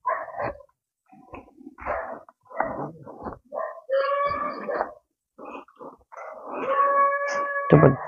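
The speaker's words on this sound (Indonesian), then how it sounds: "Tuh, anjingnya sudah pada menggonggong semua." Several dogs bark in a rural village setting, a loose string of mid-distance barks and yelps with a drawn-out howl-like call near the end, mixed with shuffling and movement sounds.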